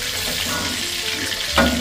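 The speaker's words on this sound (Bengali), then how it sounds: "লোটে মাছের ফিশ ফিঙ্গারটা আমি উল্টিয়ে পাল্টিয়ে হালকা করে ভেজে নিয়েছি" Lote fish fingers fry in oil in a pan with a steady, moderate sizzle close by, and a sharper clatter and hiss rise just before the end.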